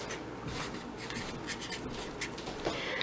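A pen writes on a gift bag label up close, making faint scratchy strokes in short bursts. The strokes are quiet against a soft background hum, and no one speaks.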